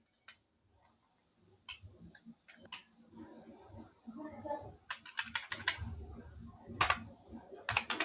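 An IP address is typed on a computer keyboard, quiet irregular bursts of key clicks that grow busier toward the end, with faint talk underneath.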